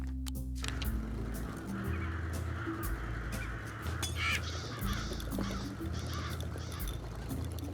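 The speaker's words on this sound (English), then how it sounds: "Goddamn crows!" Crows caw repeatedly in a video game, 3 Minutes to Midnight, loud harsh calls over a steady low droning background with layered ambience throughout.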